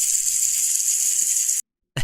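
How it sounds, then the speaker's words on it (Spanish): Steady rushing hiss of water running through a tube, continuous and fairly loud, stopping abruptly and restarting briefly at the end. "Visualicen agua corriendo a través de un tubo."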